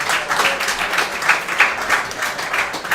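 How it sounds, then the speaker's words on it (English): A round of applause from a crowd gathered at a pizza restaurant for a baseball fathers-and-sons event, loud and close, dense clapping with slight swells in intensity. "Please give them a round of applause."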